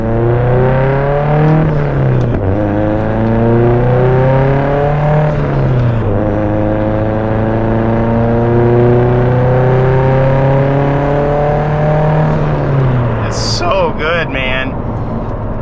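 A big-turbo Subaru STi engine drones loudly from inside the car, holding steady tones through the gear changes, with rpm dips and rises and brief high whistles near the end, while people talk over it.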